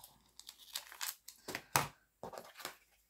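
Scissors or a blade cutting through sticker paper, heard as a series of crisp crinkling, tearing snips in uneven bursts with short pauses between them, close and fairly clear.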